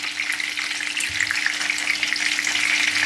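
Meat-filled brick pastries fry in hot oil in a pan, giving a loud, continuous, crackling sizzle that holds steady throughout.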